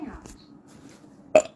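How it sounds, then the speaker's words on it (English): A single short, fairly loud burp after drinking coffee, following a faint stretch of quiet murmuring. "Coffee burp."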